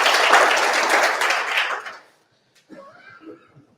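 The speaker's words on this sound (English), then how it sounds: "give a round of applause, please, for our sponsors" Applause from an e-commerce event audience for the sponsors, a full burst of clapping that fades out within two seconds, followed by a short pause and then faint voices.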